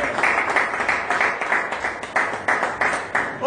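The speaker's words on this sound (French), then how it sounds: "Donnons une acclamation à notre Dieu." Congregation applauding during a Sunday church sermon, a steady patter of many hands clapping at moderate volume in a reverberant hall, with no speech over it.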